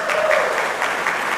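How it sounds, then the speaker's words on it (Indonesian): Applause from the men's fellowship congregation during a church service in Kuala Kapuas, Central Kalimantan, a steady wash of clapping filling the room, close and fairly loud, with no break. "Tepuk tangan dulu."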